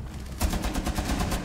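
Video-game gunfire in a ranked permadeath match, a rapid burst of repeated shots fired toward a ceiling, moderately loud and evenly spaced, with no one speaking.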